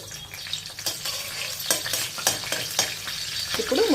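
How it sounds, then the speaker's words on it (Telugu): Boiled mutton fries with mustard seeds and slit green chillies in a pan over a high-to-medium flame, crackling and sizzling under repeated scraping strokes of a spoon, close by and without speech. "ఈ మటన్ని మనం హై ఫ్లేమ్కి మీడియం ఫ్లేమ్కి అడ్జస్ట్ చేసుకుంటూ ఇందులో నీళ్లు ఉన్నాయి కదా ఈ నీళ్లు ఎగిరే వరకు ఫ్రై చేసుకోవాలి"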